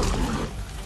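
Lions snarling and roaring as they fight a clouded leopard in the wild, a loud, close, rough growling roar that fades slightly through the second.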